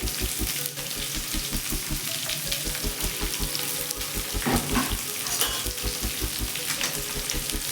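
Onions sizzling in hot oil in a pan, with green chillies already added, while cooking a horse gram upsaaru: a steady frying hiss with a regular low thumping beat throughout and a brief louder stir midway.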